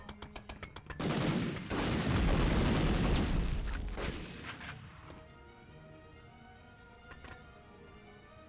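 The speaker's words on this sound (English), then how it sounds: "He's throwing nades, dude." Grenades explode in a PS1 shooter as a burst of loud, booming blasts that overlap for about three seconds. They fade into a lingering rumble, and a few faint pops follow.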